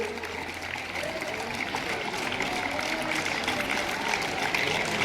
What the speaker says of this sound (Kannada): ಜೋರ ಚಪ್ಪಾಳೆ ಕೊಡಬೇಕು